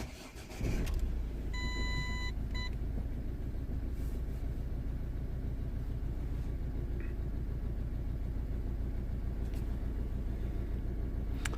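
A Mazda 3 car engine cranks and catches, then settles into a steady, loud idle that runs on without voices.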